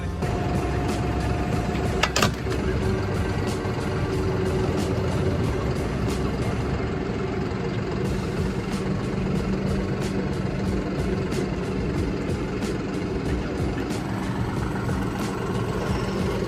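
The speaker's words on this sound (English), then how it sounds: "all I have to do is pull my tractor up close enough, and now I simply just set these down into place" A tractor engine runs steadily at close range throughout, a continuous rumbling drone with a brief clank partway as the loads are set down, and no talking.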